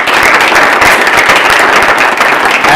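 An online club meeting audience applauds: dense, steady clapping holds at full strength throughout, with no voices over it.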